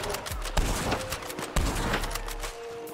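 Video game gunfire in a Paint It Black match: rapid bursts of shots crackle continuously with a couple of heavier reports, loud and busy throughout the short stretch.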